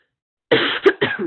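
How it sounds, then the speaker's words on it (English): A single person coughs close up, two or three sharp bursts in quick succession after a moment of silence. "my throat is dry, so forgive me for coughing"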